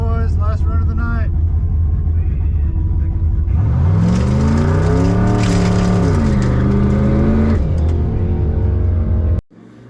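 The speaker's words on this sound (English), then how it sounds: "You can hear the motor come up. You can hear some boost being built." A turbocharged car with a big turbo and intercooler idles at a drag strip start line, then its engine swells into a loud, rising rev as boost builds, holding a strained roar before cutting off abruptly at the end.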